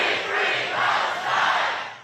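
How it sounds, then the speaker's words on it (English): A crowd of thousands of war protesters outside the Capitol, a distant roar of many voices shouting together that swells and fades in waves. "a crowd of thousands of war protesters gathered"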